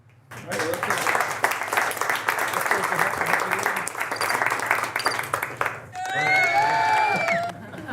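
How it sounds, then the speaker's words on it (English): Audience applause for Dave at a live wildlife photography session, a dense patter of clapping mixed with voices for several seconds, then fading as a tonal, whistling sound takes over near the end. "And a big round of applause for Dave."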